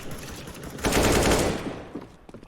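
Gunfire in Counter-Strike on the Overpass map: a dense burst of rapid automatic shots swells for about a second, then trails off into scattered fainter reports.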